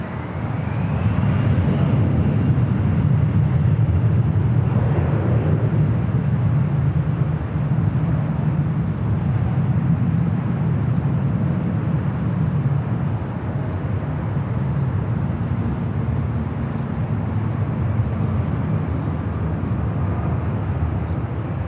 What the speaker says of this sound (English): This is Delta Connection 3704 taking off to Aspen, Colorado on the CRJ 700 ER.